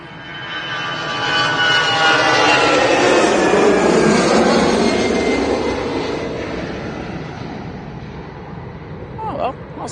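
An airliner in Smurfs livery departs Manchester Airport, its engine roar building over a few seconds to a loud sustained peak, then slowly fading, with a brief voice near the end.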